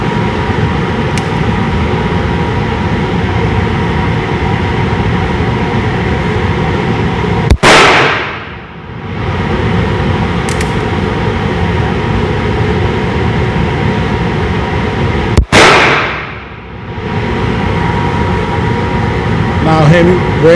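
Two sharp, loud shots from a Cobra Derringer 9mm pistol firing 115-grain Freedom Ammunition at an indoor range ring out about eight seconds apart over a steady ventilation hum.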